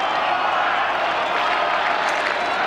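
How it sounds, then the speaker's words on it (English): A big crowd in the dome at a Syracuse vs. Virginia lacrosse game in 1999 cheers and claps in a continuous, loud roar that holds steady without a break. "Big crowd here in the dome, starting to get into the ball game"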